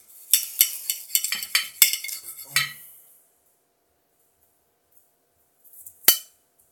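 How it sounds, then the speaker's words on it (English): A butter knife cuts and taps through an Asian pear on a hard surface, giving a run of crisp, close clicks and scrapes that stop, then one sharp knock after a pause. "I'm using a butter knife"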